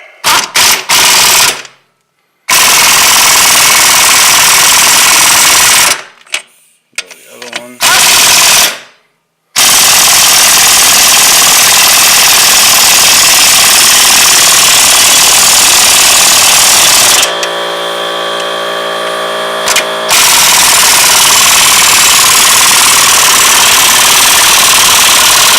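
Air impact wrench running down the front strut bolts on a 2007 Chevrolet Cobalt, loud close hammering bursts in several long runs separated by brief pauses, with a steadier mechanical whir near the end.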